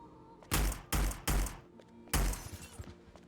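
Four loud, booming gunshots in Hitman: Blood Money fire at uneven spacing, three in quick succession and a fourth after a pause, each with a heavy low thump and a short ringing tail, with no talk.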